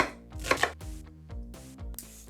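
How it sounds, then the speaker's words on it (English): A knife roughly chops peeled onions on a cutting board, giving a series of close, sharp, uneven thuds and knocks in quick succession with no talking. "just get the skin off and then roughly chop them, go with the knife all over the place"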